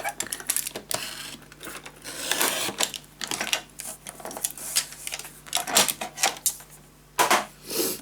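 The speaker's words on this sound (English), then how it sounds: "let's cut this from mark to mark" Paper being cut between marked points for a Celestial Moth scrapbook storage tower, heard as repeated close, crisp snips and rustles in an irregular rhythm with brief pauses, no talk.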